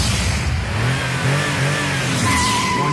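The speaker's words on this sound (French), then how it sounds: "On est sur la piste maintenant avec la Mazda RX-8 qui est munie d'un moteur rotatif" A 2006 Mazda RX-8 GT with its 1.3-litre rotary engine accelerates hard on a track, a loud, continuous, rising engine drone heard close up with no talk.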